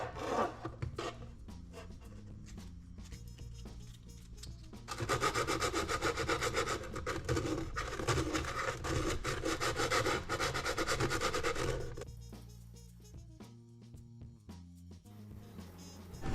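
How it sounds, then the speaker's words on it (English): Steady hand rubbing and rasping as a file and sandpaper smooth the sharp edges of a 1979 Ford Bronco seat belt part. Continuous abrasive strokes grow louder and denser in the middle stretch, with no talking. "then a file to ease the sharp edges and sandpaper to smooth it out evenly"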